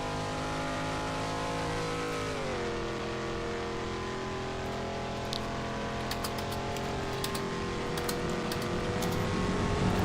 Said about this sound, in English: Bolly Coco with the Toyota Supra 12 doing his first lap or her lap